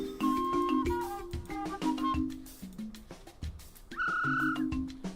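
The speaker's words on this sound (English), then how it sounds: "Whistle a toot. It makes an odd sound." A toot from a whistle in the VGA remake of the 1987 computer game Space Quest 2: Vohaul's Revenge, a short odd tone rising out of bright, busy game music and effects.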